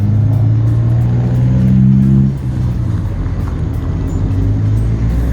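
A Honda Civic race car at a proving-grounds track day drives past with a loud, close engine rumble that fades slightly as it moves away.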